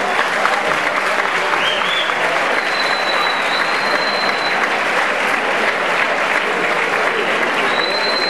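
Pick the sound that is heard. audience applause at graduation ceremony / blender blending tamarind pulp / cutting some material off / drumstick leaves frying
audience applause at graduation ceremony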